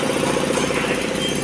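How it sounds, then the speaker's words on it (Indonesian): A Puma 15 HP four-piston air compressor driven by a 15 HP four-pole three-phase electric motor runs steadily, a loud, dense mechanical drone with a fast pulsing throb, close and constant throughout. "kita akan mengetes kompresor Puma 15 HP 4 piston auto plus motor ya"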